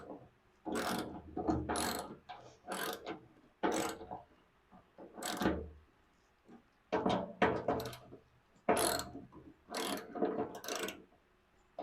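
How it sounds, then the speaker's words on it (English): A small hand ratchet turns bolts on a 1967 Ford Falcon, making repeated close bursts of sharp clicking with short pauses between strokes, loud and clear and with no talk. "you can use this little ratchet right here. Just makes me feel better to do it with the ratchet."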